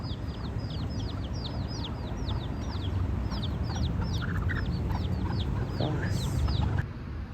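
Rapid chirping bird calls repeat over a steady low outdoor rumble in a Hawaii cemetery, with a few soft chicken clucks mixed in; no voices.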